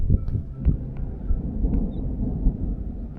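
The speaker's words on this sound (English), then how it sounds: "And now we think it's thunder." Thunder rumbling in the Alps during a hike, a low, moderately distant roll with a few soft thuds and steady outdoor background.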